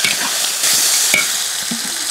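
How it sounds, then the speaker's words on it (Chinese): Pieces of soft-shelled turtle stir-fried in a hot wok with chili sauce, soybean paste, garlic, ginger, scallion and dried chilies, giving a loud, close sizzle with scraping stirs throughout, no talk. "放入甲鱼， 放入一勺香辣酱， 少许黄豆酱爆香"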